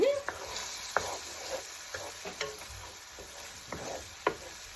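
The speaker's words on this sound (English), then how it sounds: "Stir it up." Food sizzling in a hot pan while seasoning with sazon is stirred in, soft steady frying hiss broken by scattered light scraping and clinking strokes, close and fairly quiet with no talk.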